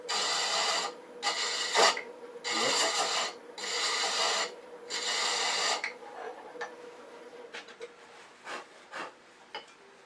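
A hand thread chaser cutting threads into boxwood spinning on a lathe gives five loud rhythmic rasping strokes, each about a second long, followed by quieter scattered ticks and light scrapes as the cutting stops.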